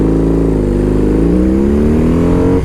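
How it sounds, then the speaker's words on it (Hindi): A BMW R 18 cruiser motorcycle's big engine revs up steadily, its deep rumble climbing in pitch over about three seconds, loud and close with no talking. "आपने देखा कि हर एक स्टार्टअप पे ये मोटरसाइकिल ऐसे झटके मारती है और अगर मैं रेव करूँ तो भी करती है"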